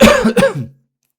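A short, throaty cough of a few rough bursts, close and fairly loud, fading out into silence.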